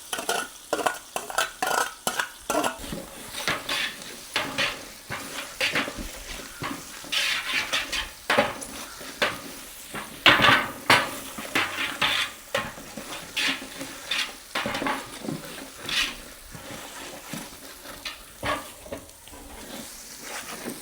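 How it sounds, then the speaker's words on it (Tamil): Ginger, garlic, pepper and cumin are stirred and sautéed in a pan while cooking pumpkin sambar, a close sizzle broken by repeated scraping strokes of a spoon against the pan. "அப்படியே வதக்கி விடுவோம்."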